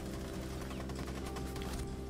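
Rapid bursts of gunfire from a tactical first-person shooter match played on PC, a dense continuous crackle of shots running steadily under a constant loud game mix with no talk.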